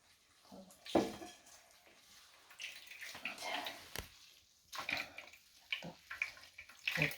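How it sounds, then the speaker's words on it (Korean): Water drips and splashes softly as blanched chamnamul greens are squeezed by hand, in irregular short bursts of trickling close by, fairly faint. "물기를 이것도 꼭 짜주셔야 돼요"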